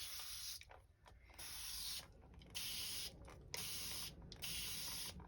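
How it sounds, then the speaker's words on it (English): Distilled water sprayed onto a comic book in a run of quick hissing bursts from a spray bottle, close and fairly soft, with short pauses between pumps. "So I'm just going to spray it."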